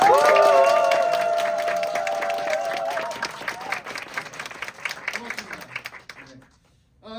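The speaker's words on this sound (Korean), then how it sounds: "여러분들의 박수와 환호를 아낌없이 보내주셔도 괜찮습니다" An audience applauds and cheers at a staged reading performance in a small studio theater, with loud, dense clapping that gradually thins out and fades to quiet near the end.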